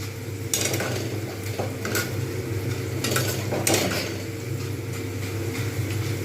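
Thin potato slices crisping in hot oil for Bengali-style fried potatoes, a steady close sizzle with low kitchen hum beneath and a few clinks and scrapes of a utensil against the pan, no talk.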